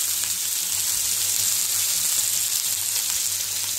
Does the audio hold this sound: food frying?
yes